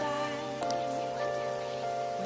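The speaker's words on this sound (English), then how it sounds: "It's raining." Steady rain ambience in the video game Persona 5 Royal, a soft continuous patter held at an even level, mixed with sustained tonal game music and a few brief interface blips.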